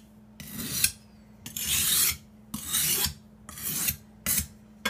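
A kitchen knife drawn across a sharpening stone at a held 20-degree angle, giving about six rasping strokes in a steady back-and-forth rhythm, close and alone, each a gritty scrape separated by short pauses.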